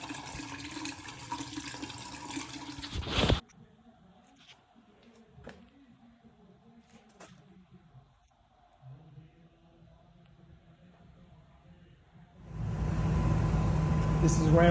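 A shop vacuum drains water from a hot water tank, loud and close, running at the start and again at the end. A quieter stretch of faint clatter and watery sounds sits between the two runs.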